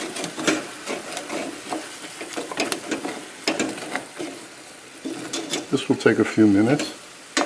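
A wooden spoon stirs and scrapes chicken thighs with garam masala and azafran sizzling in a pan, in irregular scraping strokes under intermittent talk.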